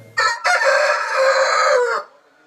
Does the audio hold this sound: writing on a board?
no